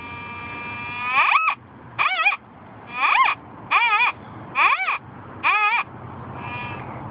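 Strong target tone from a White's Goldmaster GMT metal detector over a large piece of iron in an urban park: six loud, warbling electronic beeps in short bursts at a steady pace, with a quieter tone running underneath between them.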